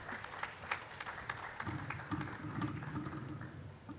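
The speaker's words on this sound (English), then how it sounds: "Once again, can we have a big round of applause for Mr. Rafael?" An audience at a public nutrition panel event applauds, a steady patter of clapping hands, moderately faint and distant, holding for a few seconds without voices.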